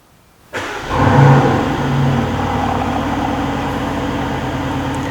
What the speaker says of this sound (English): We'll start your DB11 first now.